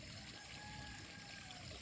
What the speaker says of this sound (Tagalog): bakit pinapalabas ni nanay ang tubig?